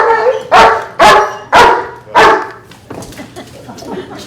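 Lukas, a K9 police dog, gives four loud, sharp barks close by at an even rhythm. A softer stretch of shuffling and faint noise follows.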